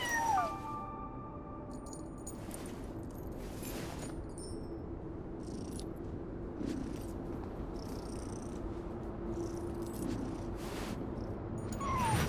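A cat meows and purrs in the video game Genshin Impact's Nod-Krai, a steady low purr running throughout with a few faint meows scattered over it and no talking.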